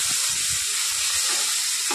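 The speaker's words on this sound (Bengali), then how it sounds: "টমেটো কুচি দিয়ে একটু আমরা নাড়বো, একটু নেড়ে নিই।" Chopped tomatoes sizzle and fry steadily in a pan while being stirred, a constant close hiss with soft low scraping bumps underneath.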